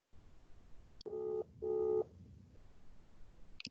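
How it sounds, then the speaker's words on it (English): A phone ringing during a webinar on POPI data protection: two short electronic ring tones in succession, fairly faint and alone, with a couple of clicks around them. "Somebody's phone's ringing."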